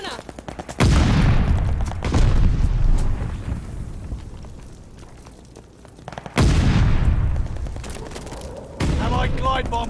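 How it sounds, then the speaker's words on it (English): Explosive bursts and gunfire from a team deathmatch on the Berlin map in Call of Duty: Vanguard, including a thrown stun grenade, with loud blasts near 1, 2, 6.5 and 9 seconds and rumbling decay between them. "throwing a stunner"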